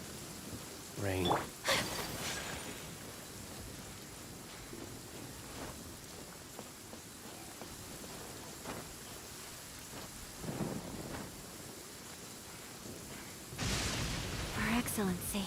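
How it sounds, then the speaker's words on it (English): Rain and rolling thunder in the video game Genshin Impact: steady rainfall throughout, with several sharp thunder cracks near the start, middle and end, fairly faint overall. "Rain."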